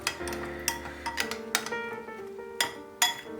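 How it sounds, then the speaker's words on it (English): A metal spoon stirs soy-based dumpling sauce in a bowl, giving a handful of sharp clinks and scrapes with ringing metallic tones, close and fairly quiet, with no voices. "So after that, okay, so you just use the spoon to mix."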